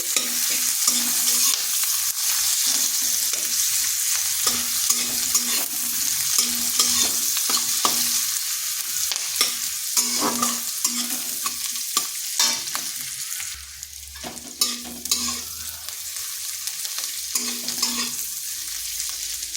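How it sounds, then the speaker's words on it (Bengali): Steady sizzling of thinly sliced onions frying in hot oil, with repeated scraping and stirring clatter from a utensil in the pan, no voices. "পেঁয়াজটাকে একটু ভেজে নিচ্ছি।"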